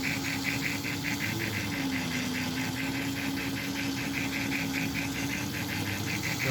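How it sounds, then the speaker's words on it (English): A model train chassis with ball bearings and a fan-driven smoke unit runs steadily, giving a continuous close mechanical whir with a fast, even pulsing buzz and a faint motor hum throughout. "it's a smooth running engine"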